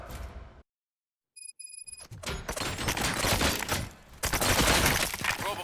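Gunfire erupts in the RoboCop Rogue City video game after a brief silence, with a rapid burst of loud, dense shots and impacts that continue in clustered volleys to the end.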